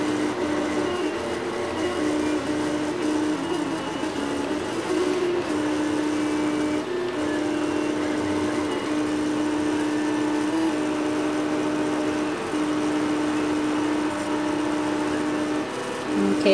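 A MendelMax 3D printer printing a torso and hand, its stepper motors giving a steady whirring hum with shifting tonal whines, continuous and fairly close, with no talk.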